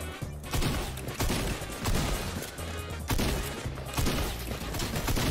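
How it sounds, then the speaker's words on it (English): Shotgun fire in a first-person video game, a rapid series of loud, close blasts repeating roughly every half second to second amid dense game noise, with no talking. "I just died to a guy just randomly shotgunning me"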